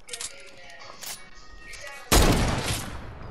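A video game gun fires rapidly, a loud sudden burst of quick shots hitting after a quieter lead-in with faint background game sounds.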